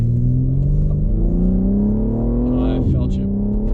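A BMW M3 Touring with AC Schnitzer ACS3 upgrades accelerates hard on a tight German road, its engine note climbing steadily, loud and close from inside the cabin, with a brief gear change near the end and a voice talking over it.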